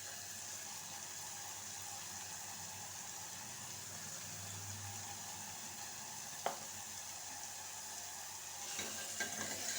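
Meal maker soya chunk curry being stirred in a frying pan, a steady sizzle running throughout with a sharp scrape of the spoon midway and more stirring clatter near the end.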